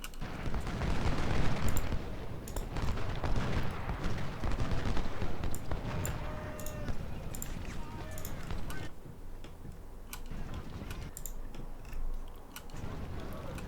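Musket and rifle volleys from troops at Fredericksburg in Ultimate General: Civil War, a Confederate campaign battle: sharp scattered shots crackle repeatedly over a dense rumbling battle bed, fairly distant and steady.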